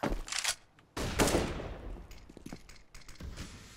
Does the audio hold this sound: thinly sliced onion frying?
no